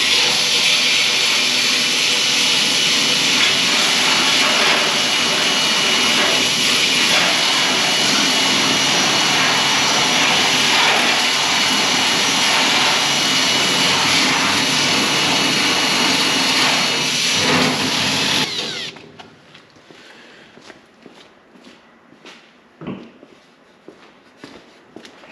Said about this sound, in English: we'll grind a little bit around it